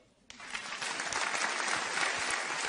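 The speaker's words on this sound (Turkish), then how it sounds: "Alkış." Audience applause that starts abruptly and swells into dense, sustained clapping from a sizeable crowd, steady and moderately loud to the end.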